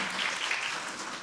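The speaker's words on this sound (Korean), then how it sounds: "다시 한번 큰 박수 부탁드립니다." Audience applause after a live performance fills the space as a dense, steady wash of clapping, fairly distant, with no voices over it.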